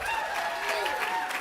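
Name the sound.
audience applause for winning team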